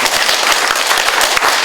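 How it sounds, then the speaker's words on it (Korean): An audience applauds at a health talk concert, a dense burst of many hands clapping close and loud, with crisp individual claps standing out. "박수 한번"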